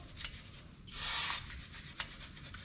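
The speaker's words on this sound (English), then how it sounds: "I'm going to scrub on this a little bit off camera" A brush scrubs a GMC Yukon Denali brake caliper in short, close strokes, with a louder, longer rasping swipe in the middle and faint scratchy rubs before and after.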